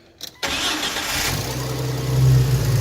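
A starter whirs briefly, then a cold Jeep TJ engine catches and settles into a steady, loud idle with a low droning rumble close by.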